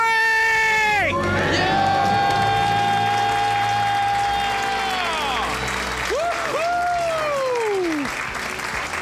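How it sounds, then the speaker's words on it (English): A large crowd erupts in loud, sustained cheering and screaming at a debt-free celebration, with high shrieks rising above the roar and applause throughout. "Let's hear a debt-free scream."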